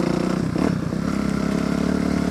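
A Kawasaki KLX250 dirt bike runs out in the desert with a steady, close, buzzing single-cylinder engine note and a fast pulsing rhythm, with no voices over it.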